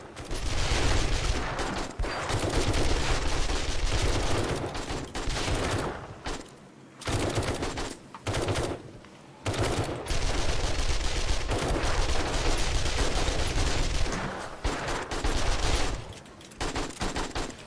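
SMG fire in the video game 7 Days to Die, long loud sustained automatic bursts broken by a few brief pauses, close and dense, continuing almost without letup.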